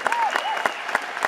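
Audience applause for a panel of speakers at a cinema discussion event, a short burst of steady clapping with sharp hand claps and tonal whistle-like streaks above it.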